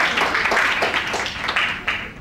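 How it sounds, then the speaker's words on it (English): A brief burst of audience applause at an event, several quick rhythmic claps close together over a couple of seconds, fairly loud and near. "Can you give a round of applause?"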